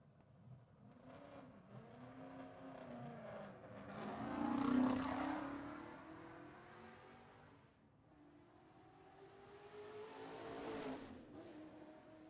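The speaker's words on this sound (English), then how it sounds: "Barry Lyon there in a 302 Ford XY GT" A 302 Ford XY GT race car passes at a historic motor racing revival meeting, its engine note rising to a loud peak mid-pass and then falling away, with a second swell toward the end.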